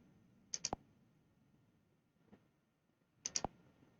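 Faint computer mouse clicks during an Android Studio clinic-app demo: a quick cluster of clicks, a lone soft tick, then another tight cluster a few seconds later. Quiet, close and without any speech.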